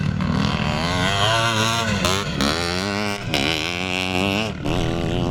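Two-stroke motocross bikes at a classic race meeting, a Czechoslovakian two-stroke against a British Triumph Rickman, snarl loudly and continuously, the buzzing engine pitch climbing and dropping through repeated revs and gear changes.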